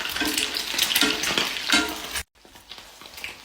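Eggs frying in a hot pan, a dense, loud crackling sizzle with stirring scrapes close up, cutting off sharply partway through before quieter sizzling picks back up.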